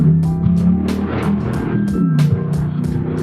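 A Chevrolet Camaro drives through a traffic circle with paddle shifting, its engine note rising and falling through the gears in a loud, close, rhythmic pattern.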